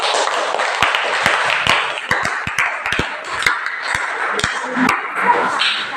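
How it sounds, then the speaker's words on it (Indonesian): A classroom group claps for a presenting team, with scattered sharp hand claps ringing out irregularly over a steady murmur of room noise. "Oke, tepuk tangan untuk kelompok 4."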